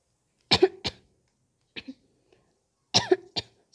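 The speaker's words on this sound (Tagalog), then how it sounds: "May ubo kasi ako" A few sharp coughs come in two quick bursts with a fainter cough between them, close to the microphone and with no talking.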